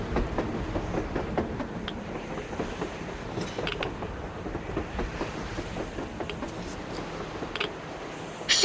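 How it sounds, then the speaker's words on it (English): Train running on the surface in the game Metro Exodus, a distant steady rumble of wheels with faint rhythmic clacking and metallic clicks, heard from afar over a background wash. "A train! A damn train on the surface!"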